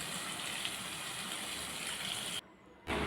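Water pours steadily into a cooking pot of tamarind-free kuzhambu in a continuous gushing splash, cutting off briefly near the end before resuming.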